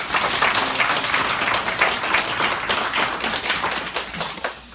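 A church congregation at a Sunday morning service applauds the choir in dense, sustained applause that stays loud and even throughout.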